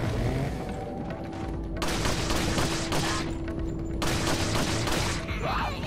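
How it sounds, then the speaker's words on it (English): Shotgun blasts in the video game Resident Evil 4, heavy booming shots in several separate bursts, loud and close, with sustained noisy rumble carrying between them. "I'm gonna use my shotgun against you, lady."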